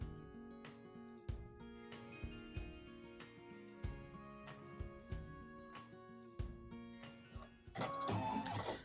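An embroidery machine stitches a tack down line on a Kimberbell Fire House quilt block, its needle knocking in a steady, repeating rhythm of sharp pulses that grows louder and busier at the end.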